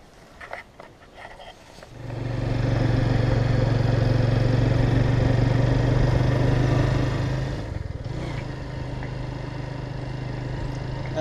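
A Mahindra Centuro motorcycle engine starts up on a forest ride in Telangana and runs steadily and loudly up close with a strong low drone, briefly dipping before settling into a continuous idle-like hum.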